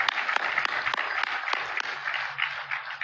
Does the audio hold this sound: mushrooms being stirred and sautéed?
no